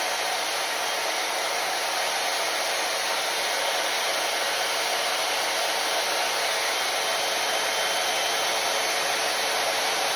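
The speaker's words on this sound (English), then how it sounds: "If you need to blow dry a little bit at that point, you do it." A hair dryer blows a steady, loud, unbroken roar as a heat-friendly synthetic fiber wig is blow-dried, with no talking over it.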